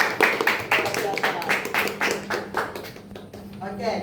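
Students in a classroom clapping their hands, a run of fairly close, rhythmic claps that fades out toward the end with a voice audible afterward.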